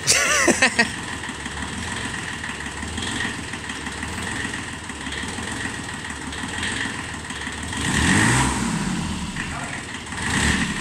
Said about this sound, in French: Accélérateur appuyé.